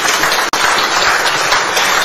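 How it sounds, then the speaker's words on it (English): Loud, dense applause fills a formal Kenya–Ghana joint media briefing at Jubilee House in Accra as a crowd claps for two leaders, sustained and even throughout with a brief dropout near the start. "with a resounding and a deafening round of applause,"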